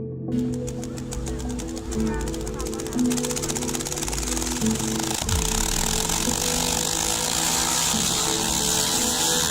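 The world's largest Tesla coil discharging three million volts: a loud, harsh buzzing crackle with rapid pulsing zaps drones on over a low hum, intensifying and growing noisier midway; steady and close.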